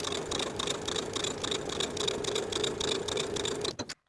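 Sewing machine understitching a pants pocket to its seam allowance with a narrow seam, a steady rapid rattle that runs continuously and stops abruptly at the end.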